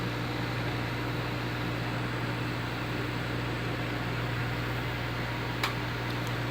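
A nine-year-old Cooler Master Blizzard T2 CPU cooler fan on an Intel i7 6th Gen computer runs steadily, giving a constant broadband whir with a low hum and no talk.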